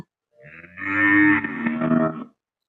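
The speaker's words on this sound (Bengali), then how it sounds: "ফিজিয়ান ষাঁড় বাচ্চা" A Friesian bull calf lets out a single drawn-out moo, close and clear, lasting about two seconds against silence.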